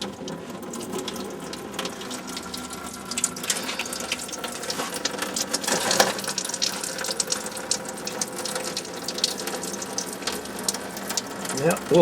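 Coolant draining from the radiator petcock of a Dakota truck during a thermostat change, a steady trickling, splashing flow running onto the cowling, close and continuous with faint mechanical clicks.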